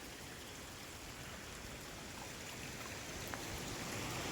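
Kalu waterfall in Malshej Ghat pours steadily, giving a dense, constant rushing wash of water that stays even and unbroken throughout, with no voices over it.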